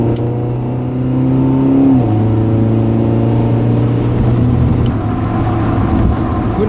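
Engine of a 1992 Honda Prelude 2.0i automatic, heard from inside the cabin as it accelerates onto the M54 motorway: a loud steady drone that climbs in pitch, shifts down once early on, then keeps pulling, with no talking.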